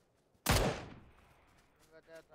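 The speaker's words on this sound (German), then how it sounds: "Und wo kommen die Schüsse?" A single sharp video game gunshot bursts out loudly then decays into a rumbling echo, followed by faint clicks and muffled activity.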